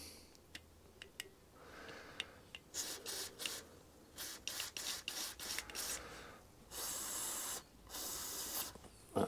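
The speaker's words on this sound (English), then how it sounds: "So a bit of carby spray." Carburetor cleaner sprays in short hissing bursts into the jets and tube of a Honda HRX476 lawnmower carburetor, several spurts of varying length, close and fairly quiet, with no talking.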